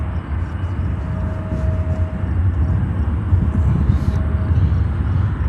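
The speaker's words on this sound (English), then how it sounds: "Next arrival here is another SkyWest Airlines, a CRJ200, coming in from Peoria" A SkyWest Airlines CRJ200 regional jet arrives at Chicago O'Hare, its engines a steady, fairly loud roar that swells slightly toward the end, with a thin whine running underneath and no talk.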